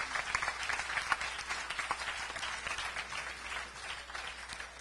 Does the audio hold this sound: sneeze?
no